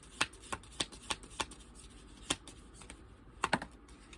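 Playing cards being shuffled during a spirit card reading, heard as a series of sharp, crisp riffling bursts with short pauses between them, close and fairly quiet, with no talking.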